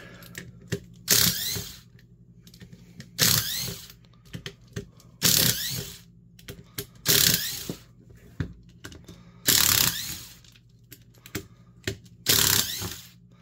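A driver works screws out of the plastic housing of a Performance Tool/Harbor Freight 3/8-inch right angle drill, giving bursts of clicking ratchet-like rattles roughly every two seconds, separated by quiet pauses, close up with no talk.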